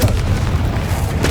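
Loud, deep boom of the Confringo blasting spell in Hogwarts Legacy, a short sustained rumbling burst filling the moment with no speech.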